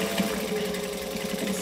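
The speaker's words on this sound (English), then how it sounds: "now I'm going to stitch and backstitch." Sewing machine stitching forward and then backstitching, a steady, close, continuous mechanical whir and rapid needle clatter with no talking over it.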